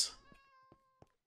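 A cat meows close by, starting with one clear drawn-out tonal call followed by two short, faint chirps, heard alone in a quiet indoor space.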